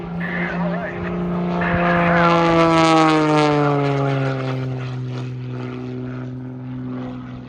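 A propeller aerobatic plane flies Wayne Handley's flywheel maneuver at an airshow, engine droning loud and steady with a pitch that bends and sweeps as the aircraft rotates through a full revolution.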